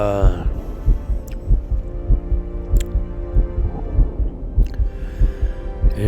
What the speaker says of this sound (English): The heartbeat in my earphone just threw me off.